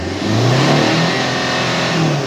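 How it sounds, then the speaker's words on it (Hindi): A car engine, just fitted with a new barometric pressure sensor, is revved hard to full throttle, its loud, steady roar rising and holding close up with no talk. "अभी फुल रेस करके दिखाता हूँ आपको"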